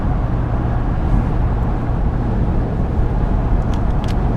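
Inside the cab of a diesel Ram 3500 on the highway, a dense, steady rumble of engine and road noise holds at a constant level throughout, with no clear rise.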